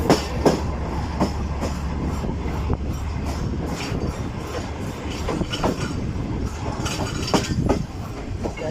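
A passenger train runs on a single-line railway track between Karachi and Hyderabad, with a steady rolling rumble and repeated clickety-clack of wheels over rail joints throughout, heard close from on board, with no voices.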